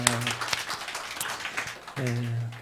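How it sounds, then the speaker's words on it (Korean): Congregation clapping during an Easter Sunday church service, a scattered, moderate round of applause with a voice speaking over it at the start and again near the end. "우리 서로 축복의 박수 드리겠습니다"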